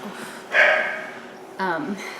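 Two sharp dog barks nearby, a short pause between them, standing out over a quiet room.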